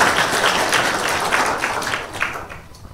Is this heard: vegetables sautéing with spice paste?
no